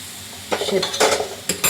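Boiled moong dal goes into a pan of fish heads fried in masala, a soft sizzle bursting into several louder splashing, scraping stirs and clinks of a utensil against the pan.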